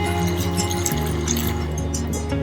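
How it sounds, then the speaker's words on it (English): Water or chicken broth pours into a wok of sizzling red chili oil and chili bean paste, a continuous bubbling, splashing rush with a sharp clatter partway through. "Add 400 ml water or chicken broth"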